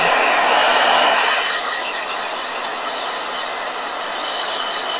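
A blow dryer runs steadily with a loud, broad airy hiss, a little stronger in the first second and then holding even to the end, with no talking.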